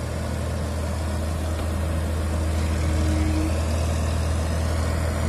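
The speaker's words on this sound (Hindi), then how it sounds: "दोस्तों देख सकते हैं आप टाटा हिटाची शिनराई का स्टंट, और हम नीचे से ट्रैक्टर को क्रॉस करेंगे।" Diesel engines of a Tata Hitachi Shinrai excavator and an Eicher 557 tractor rumble together during a stunt, a steady low heavy drone recorded nearby with a brief rising whine in the middle and no talk.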